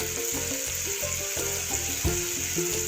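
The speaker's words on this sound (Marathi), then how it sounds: "मग त्या डाळीला चांगला तडका बसतो" Hot oil tadka sizzles over cooked dal, a steady frying hiss with small crackles and popping bubbles throughout, close and even, with no voices.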